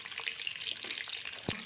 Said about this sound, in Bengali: ডিমটাকে এরকম চাকু দিয়ে চিড়ে চিড়ে ভাজা করা হচ্ছে